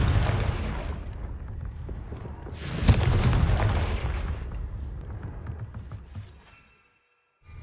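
Fiery Confringo spell blasts erupt in the Hogwarts Legacy video game, a dense rumbling barrage of booms with a sharp, bright burst near the middle, then fading to silence near the end.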